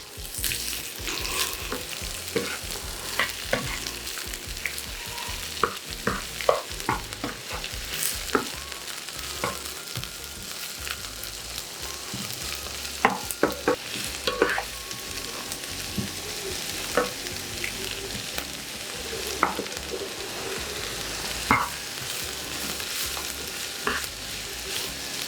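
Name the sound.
white and red onions frying in pan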